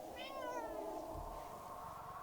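A kitten meows once with a rising, wavering cry near the start, close and clear over a steady low background hum; the rest of the clip carries only that ambient drone.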